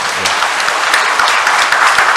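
Congregation in a Catholic church clapping to welcome visiting tourists during Mass, a brief, loud burst of many hands applauding together with crisp individual claps audible in the wash.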